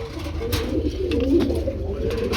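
A flock of pigeons kept for sale, pairs with eggs and chicks, coos steadily in overlapping low, throaty calls that form a continuous murmur at close range with no speech.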